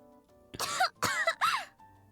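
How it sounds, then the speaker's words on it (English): A character in the game Nikke coughing violently, three harsh, rasping bursts in quick succession, close and loud against a quiet background. "Arcana starts coughing violently and falls onto the desk."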